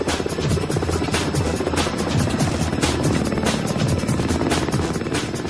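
Russian Ka-52 Alligator two-seat attack helicopter, steady loud rotor thump with a rapid regular beat and a buzzing turbine whine, held at close range with no one talking.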